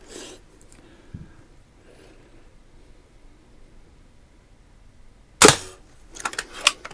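Gunshots at a large center target in a St Patrick's Day shooting challenge, fired from an old 499A: one loud, sharp crack, then a few quieter bangs and clatters, with no talking.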